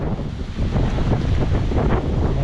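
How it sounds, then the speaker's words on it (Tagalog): Strong gusts of wind buffet a camera microphone outdoors while mango and talisay trees are trimmed ahead of an approaching typhoon, a loud, steady rumbling roar that fills the whole clip without a break. "sobrang lakas ng hangin"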